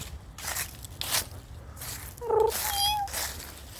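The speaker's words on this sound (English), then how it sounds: "there's a cat here" A cat meows once, a short tonal call near the middle, with faint rustling and background noise around it and no talk.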